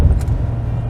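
Ford F250 with the 7.3L Godzilla V8 gas engine revving while towing a heavy load, a loud, deep, steady rumble close by with no talk over it.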